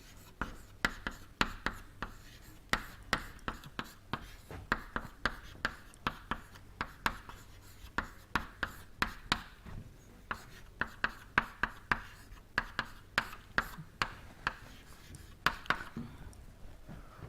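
A pen or chalk writes out an equation during a fluid mechanics lecture on Bernoulli's equation. Close, quick taps and strokes keep up an irregular rhythm with faint scratching between them, and there is no talk over them.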